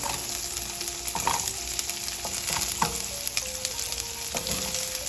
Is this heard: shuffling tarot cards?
no